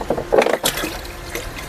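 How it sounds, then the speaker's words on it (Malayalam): Water pours and splashes into a guppy fish tank at a guppy farm, a brief close gush of liquid filling the tank with no talking. "നമുക്ക് ഇതിൻ്റെ അകത്ത് കുറച്ച് വെള്ളം ഒഴിച്ചു കൊടുക്കാം"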